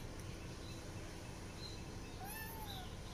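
Thin, high kitten meows during play, a couple of faint calls late in the clip over a steady background hiss.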